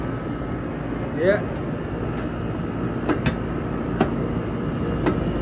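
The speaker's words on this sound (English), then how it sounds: "now I can hear the compressor noise" A home air conditioner's compressor, just started after a bad capacitor was replaced, runs as a steady broadband hum with a few soft clicks and taps; someone speaks briefly over it.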